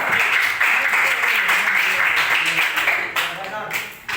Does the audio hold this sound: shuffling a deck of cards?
no